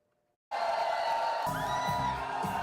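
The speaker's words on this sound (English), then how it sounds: "That is the sound of passionate Texas voters cheering for their candidates" Crowd of Texas voters at a political rally for Ted Cruz or Colin Allred, a sustained loud roar of cheering and whooping that erupts suddenly after near silence and carries on, with shouts rising above the din.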